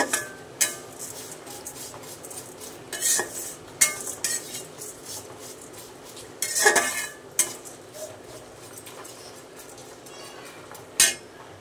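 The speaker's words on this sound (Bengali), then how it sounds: "একটু নেড়ে নিচ্ছি।" Flattened rice (chira) with cumin being stirred in a pan, sporadic spatula scrapes and metallic clinks over a quiet background, close and fairly soft.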